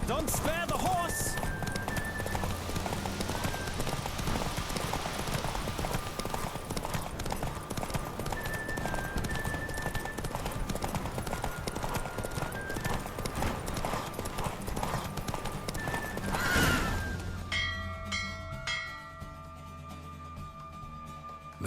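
In The Witcher 3, horses gallop through a race with a driving, continuous clatter of hooves that ends abruptly near the finish, leaving quieter ambience.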